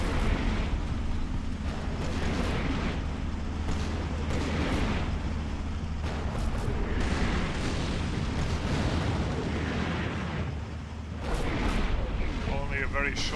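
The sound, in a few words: 82mm mortar barrage in video game Combat Mission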